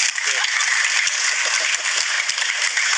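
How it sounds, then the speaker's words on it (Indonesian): Dense, steady audience applause from a crowd at an Indonesian talk-show-style event with a host, a continuous wash of clapping with faint voices beneath. "Tepuk tangan buat saya"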